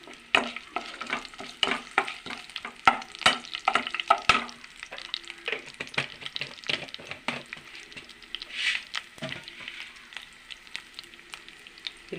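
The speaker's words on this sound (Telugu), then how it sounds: "కొద్దిగా శనగపప్పు వేద్దాము" Garlic and chana dal fry in hot oil in a pan, a steady close sizzle broken by frequent sharp clacks and scrapes of stirring, with no voices.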